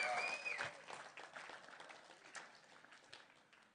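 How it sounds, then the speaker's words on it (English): Applause from the audience at a 2019 policy summit, soft and fairly distant, a crowd clapping in a long, gradually fading wash with no speech standing out. "It's worth clapping 2 times."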